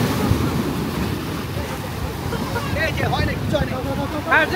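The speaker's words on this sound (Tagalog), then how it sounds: "Malakas yung alon." Strong surf rolling onto a windy beach at Ras Tanura, Saudi Arabia, a steady broadband wash of waves with wind buffeting the microphone, while people talk and call out faintly in the background.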